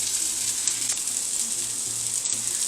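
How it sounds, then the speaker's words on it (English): Butter melting in a pan for a chicken and potatoes dish gives a soft, steady sizzle that runs the whole time at low level, with a faint low hum beneath it and no talk. "I'm going to let the butter melt down a little bit before I give this a stir"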